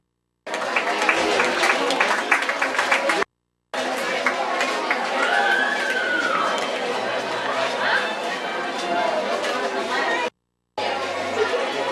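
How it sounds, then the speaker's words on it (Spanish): A crowd at a ninth-grade graduation ceremony in Cantón El Trillo claps for a graduate, with loud chatter and murmuring voices mixed in; the sound is broken by two short silent gaps. "Muy bien, fuerte aplauso."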